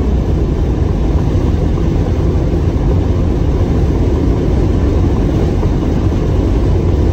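A Porsche 911 Targa G-model engine on a fast lap, pulled hard through second gear before an upshift to third: a loud, dense, continuous roar filling the whole stretch, close and without talk.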